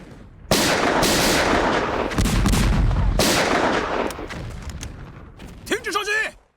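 War-film gunfire and artillery roar in dense, loud volleys of overlapping blasts and rattling shots, then a voice shouts over the din as the barrage thins.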